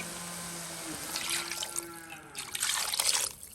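Coconut milk pours and trickles into a container with a soft splashing gurgle, close by, growing slightly louder toward the end.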